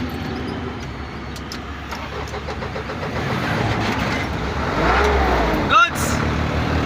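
A repaired Isuzu 4HL1 diesel engine runs steadily in a truck, its low mechanical clatter building slightly as it picks up, with a brief sharp knock and hiss near the end while people talk nearby.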